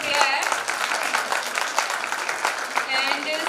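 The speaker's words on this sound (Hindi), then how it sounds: "तालियां लगा दो भाई" Audience applause at the Punjab Talent Hunt 2019 grand finale as a young child winner in the 3-to-7-year category is called onstage; dense, steady clapping continues throughout, with a loud crowd murmur and voices mixed in.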